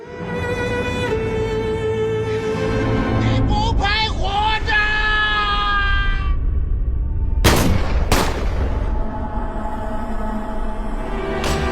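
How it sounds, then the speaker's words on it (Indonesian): Gunfire in a film fight scene: several loud, sharp shots crack out near the middle of the clip over a dense, continuous bed of music and effects. "polisi berhasil menembak Chang Feng tepat di dadanya"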